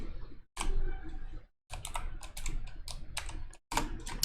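Close keyboard typing on a computer while coding runs in bursts of rapid clicks and taps, broken by two short pauses, with no talk over it.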